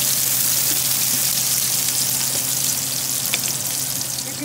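Tomato salsa goes into garlic and onion browning in a pan for a Mexican shrimp stew, making a loud, steady hiss of sizzling that holds at one level, close by and without voices.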